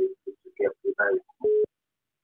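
A telephone line tone sounds during a radio call-in, short steady beeps alternating with brief bursts of speech, then one longer tone and a final beep.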